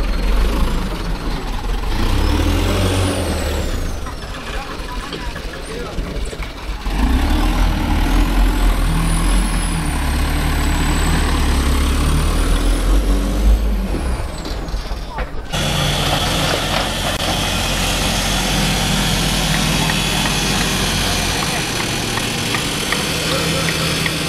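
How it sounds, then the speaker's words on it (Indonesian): A dump truck carrying construction debris parks at a dumping site in Kali Baru, Tambun Selatan, its loud engine rumbling and idling with mechanical clanks and hiss, then a broad steady noise takes over midway. "Ini mobilnya sudah mulai parkir dan akan segera membuang puing-puing sisa-sisa bangunan dari Kali Baru Tambun Selatan ini"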